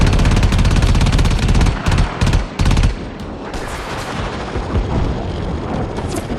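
Heavy gunfire from the Fomorian's guns in Warframe: loud, rapid bursts in the first three seconds, then a dense, continuous roar of fire and explosions.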